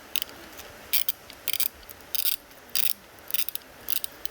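A ratchet with a 10 mm socket loosens an alternator bolt on a Genesis V8 sedan, short bursts of quick clicking repeated in a rhythm, close by and alone.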